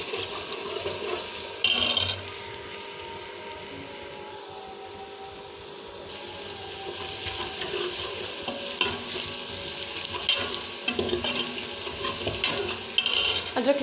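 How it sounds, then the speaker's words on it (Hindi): Ginger and garlic fry in a pan for dal gosht, a steady close crackling sizzle throughout with occasional scraping stirs, no talking. "अदरक लहसुन तकरीबन हमारा जो है वो फ्राई हो रहा है अच्छे से।"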